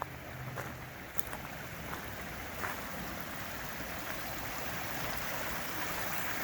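Lime Creek flows in a steady, continuous wash of rushing water beside a roadside camp, close and even, with a couple of faint knocks over it.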